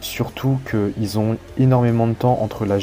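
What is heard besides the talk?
No distinct noise like a dog, phone or traffic.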